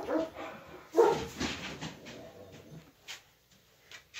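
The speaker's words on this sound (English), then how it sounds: "Sorry, dogs are fighting." Dogs fighting outdoors, a burst of loud barks, yips and snarling whimpers that comes close and hectic at first, then thins into scattered quieter yelps.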